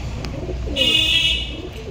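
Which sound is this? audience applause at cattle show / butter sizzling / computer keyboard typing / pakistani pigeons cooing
pakistani pigeons cooing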